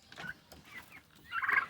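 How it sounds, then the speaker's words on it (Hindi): A pet turkey gobbles, with soft bird calls early on and then a loud, rapid, close gobbling burst near the end, with no talking. "तो अब मैं यहाँ पे हूँ मेरी टर्की के साथ"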